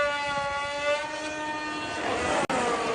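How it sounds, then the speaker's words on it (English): An Audi Formula 1 car at preseason testing runs its engine in a loud, buzzing harmonic whine that holds steady then swells and roughens near the end, with a sharp brief cut-out, heard fairly close. "Apparently the Audi is so loud"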